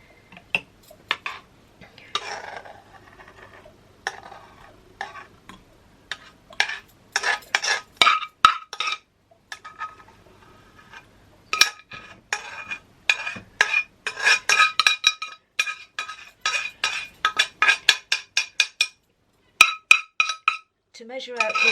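Tomato pieces dropped and pressed into a glass jar for preserving, giving a run of light clinks, taps and knocks, sparse at first and then quicker and denser, close by with no talk.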